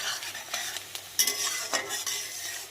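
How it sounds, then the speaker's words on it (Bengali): Onion frying and being stirred in a pan with cumin seeds, a steady close sizzle broken by repeated scraping stirs of a utensil against the pan. "পেঁয়াজটা কিন্তু ভাজাটা প্রায় লাল লাল হয়ে গেছে"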